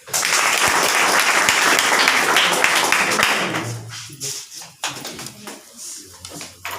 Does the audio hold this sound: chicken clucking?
no